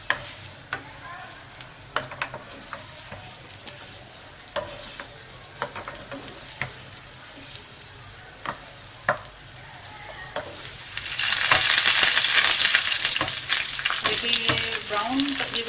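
Sliced onions frying in ghee in a pot, with scattered clinks and stirring scrapes at first, then a loud steady sizzle that swells up near the end.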